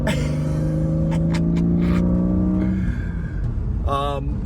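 A 1995 BMW M3 engine hums and pulls while driving, a steady interior drone with shifting tones and a brief change near the end, with someone talking over it.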